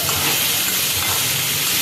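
Potatoes and spices fry in hot oil, giving a dense, continuous sizzle with light stirring, close and steady throughout.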